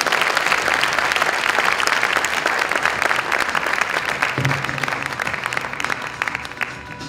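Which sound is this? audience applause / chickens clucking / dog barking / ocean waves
audience applause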